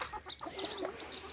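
A small young hen that has just started laying small brown eggs clucks in short, rapid bursts, close and moderately loud, with no talk.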